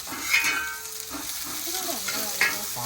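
Coconut pieces with ginger and garlic fry in plenty of oil over a wood-fired stove, giving a steady close sizzle broken by occasional stirring scrapes.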